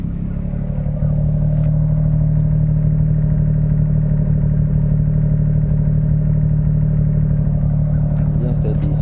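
A steady engine idles close by, its low rumble continuous and even throughout, with slight clattering on top; the engine is a swapped replacement.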